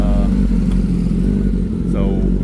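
Loud, steady drone of a drag racing motorcycle engine at a street ET drag race event, continuous and close with rumbling low tones and no pause.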